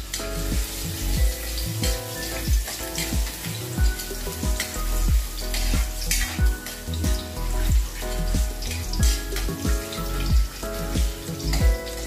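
Garlic sizzles and fries in a hot pan for sarciadong tofu, a loud, continuous crackle under background music with pulsing beats, and nobody speaks.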